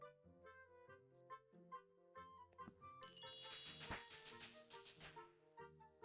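A bright, sparkling fanfare of chimes rises over soft melodic tones, a short celebratory video game jingle for reaching cooking level 2, with ringing bell notes, clear and close.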